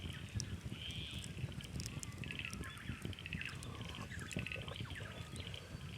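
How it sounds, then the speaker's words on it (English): Faint birdsong at a quiet morning campsite: scattered chirps and tweets over a low steady ambient background, with no talking. "It's nice just sitting here listening to the birds, listening to the world come to life."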